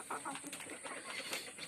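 Laying hens cluck softly and close by, making short, scattered calls over a quiet background.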